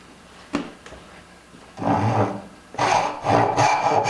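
A hand saw cuts wood for a dovetail joint, with a few light taps followed by two bursts of close, rasping back-and-forth strokes.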